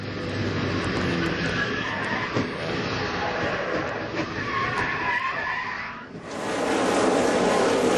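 NASCAR race cars at the 2007 Auto Club 500 roar past in a dense, loud engine wash with a rising swell near the end, and commentary voices are faintly buried beneath.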